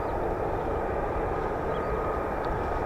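An F-35B stealth fighter jet climbs out from RAF Marham, heard as a loud, steady, broadband jet roar that fills the whole moment without letting up.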